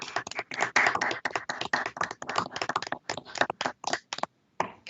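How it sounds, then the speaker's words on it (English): Several judges clap into their microphones during a live-streamed appellate court session honoring new attorneys, a brisk run of separate hand claps with uneven rhythm, slightly thin and close-miked, tapering off near the end. "give a little round of applause for all of the new attorneys"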